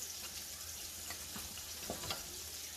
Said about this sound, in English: you fry it up on medium heat